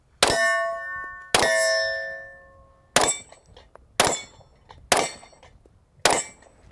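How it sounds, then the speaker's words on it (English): Six bright metallic clangs as 9mm bullets strike steel targets on a range, each ring decaying over about a second, the first two longest, spaced roughly a second apart and close to the microphone. "ding, ding, ding, no problem hitting those targets right on"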